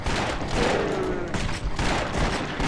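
Rapid gunfire from the action role-playing game Torchlight II, dense bursts of shots running without pause through the whole stretch, loud and busy with game effects layered together.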